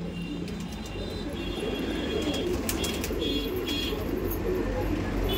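Banarasi pigeons coo in low murmuring calls amid a dense, constant flock noise, with sharper chirps scattered above a steady background rumble.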